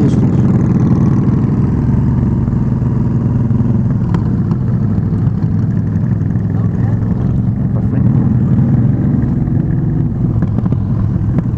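Custom cruiser motorcycle with a sport exhaust riding in a group to a motorcycle club anniversary meetup, a loud steady engine drone with wind rumble filling the whole stretch without a break.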